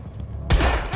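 Gunfire in the video game Quantum Break: after a quiet moment, a sudden loud close burst of shots breaks in, then a second shot follows about half a second later.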